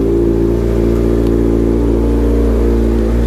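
A 2019 Kawasaki Ninja ZX-6R with a full M4 GP exhaust system, revving loudly and close, its steady throaty engine roar holding without a break.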